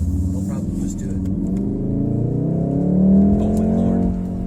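A 2019 Volkswagen Golf R engine revs up through quick downshifts, a rising, droning growl that swells and eases under steady road rumble.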